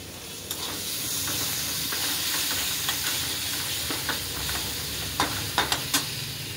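Green chilies sizzling as they are sautéed in a hot pan for potato paratha filling: a steady, close frying hiss, with sharp stirring clicks and taps near the end.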